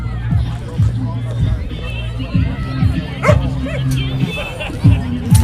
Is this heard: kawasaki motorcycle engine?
no